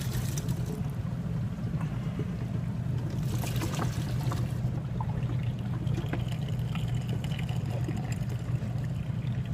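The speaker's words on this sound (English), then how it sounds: "I'm going to proceed to pour this into the strainer" Potatoes and starchy water pour into a strainer with a steady, continuous rushing splash, with a brief louder gush near the middle and no talking.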